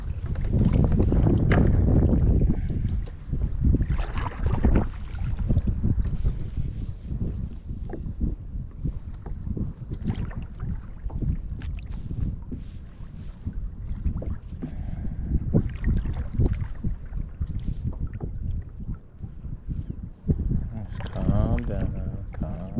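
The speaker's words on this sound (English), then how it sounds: "Little windy, that's all. It'll die down, hopefully." Strong gusting wind buffets the microphone throughout, roaring loudest at the start and rumbling on in uneven waves.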